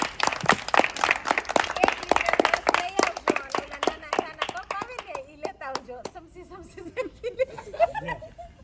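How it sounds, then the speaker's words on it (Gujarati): Hands clapping in quick, sharp bursts of welcome from a small group, loud at first and tapering into scattered claps, with chuckles and talk mixed in toward the end. "આપણે બધાએ તાળીઓથી એનું સ્વાગત કરીશું"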